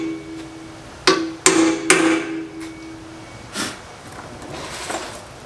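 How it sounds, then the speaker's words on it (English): A hammer strikes a punch to mark drilling spots on a truck bumper: three sharp metallic hits in quick succession, then a couple of lighter taps, close and clear with no talking. "And now I'm going to punch"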